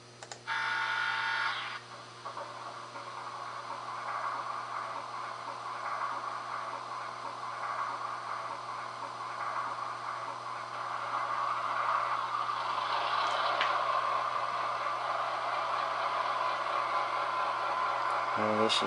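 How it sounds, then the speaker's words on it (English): An ESU LokSound v4.0 decoder in a Pioneer Zephyr model locomotive plays an EMD 8-cylinder 567 diesel prime mover. A short start-up burst settles into a steady, hissy, rumbling idle drone that runs on at moderate volume. "what everybody wants to hear is our EMD 8-cylinder 567 prime mover"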